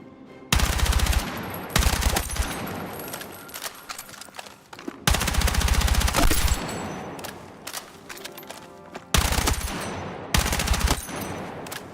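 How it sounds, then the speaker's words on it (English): Sustained automatic gunfire from an overheating gun in a PC video game, loud close bursts of rapid fire in several long strings separated by brief pauses, with no talk. "look at the barrel of the gun turning red as I shoot"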